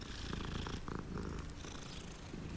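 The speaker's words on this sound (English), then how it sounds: "I have to pet Kitty" A cat purrs while being petted in the video game Hogwarts Legacy, giving a soft, continuous rhythmic rumble, faint and close, with no talking over it.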